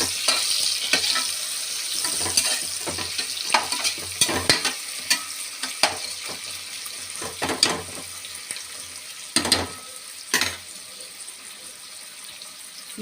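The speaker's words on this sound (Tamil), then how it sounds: "இது வந்து நல்லா கோல்டன் ஃப்ரை வர அளவுக்கு நம்ம ஃப்ரை பண்ணணும்" Onions frying in oil toward golden brown for a prawn biryani, with a steady close sizzle broken by repeated sharp scrapes and clinks of a spoon stirring against the pan.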